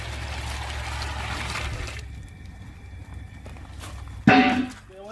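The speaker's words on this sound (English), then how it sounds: "we're pouring this part of the hot water in a suitable container" Hot water poured into a suitable container outdoors, a broad rushing splash that runs steadily for about two seconds and then stops, followed by a quieter stretch and a brief louder clatter near the end.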